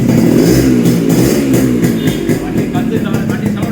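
A vehicle engine starts and revs continuously up close, loud and steady with rough mechanical clatter and rising throttle surges; a voice talks faintly beneath.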